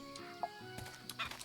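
Chickens cluck in the farm video game Traveller's Rest, with a few short clucks standing out over soft in-game ambience and background music.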